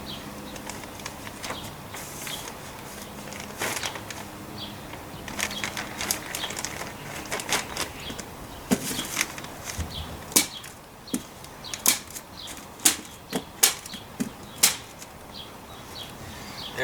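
Nailing vapor barrier inside a retaining wall planter outdoors: scattered sharp hammer strikes and taps, growing louder and more frequent toward the end, with rustling and handling noise between hits and no talk.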